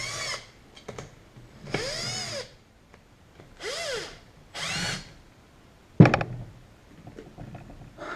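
A power tool spins nylock nuts onto wheel bolts on Renault R5 Turbo 2 Gotti wheels: four or five short whirring bursts, each rising and falling in pitch, separated by pauses and a sharp metallic clunk.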